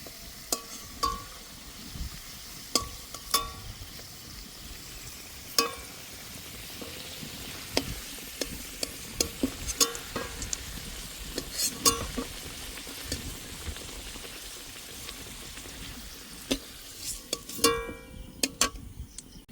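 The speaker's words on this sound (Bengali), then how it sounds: "এবার ভালো করে ভেজে নেব" Potatoes seasoned with turmeric and salt fry in a pan, giving a low steady sizzle broken by frequent sharp clicks and scrapes of stirring, moderately close, with no talking.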